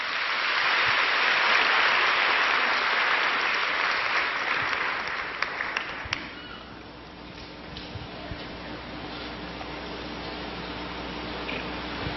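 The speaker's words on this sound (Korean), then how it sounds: "박수로 함께 해주시죠" Broad applause from a church congregation during a worship service fills the space, loud and sustained for about six seconds before easing into quieter scattered claps and room murmur.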